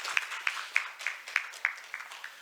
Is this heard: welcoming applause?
yes